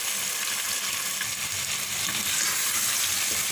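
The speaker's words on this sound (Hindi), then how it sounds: "8 से 10 मिनट ऐसे अच्छी तरह से भूनेंगे कि यह गोश्त जो है ये अध गला हो जाए" Chicken pieces sizzle steadily as they fry and get stirred in a pan for a salan, a continuous close, moderately loud hiss with faint scraping underneath.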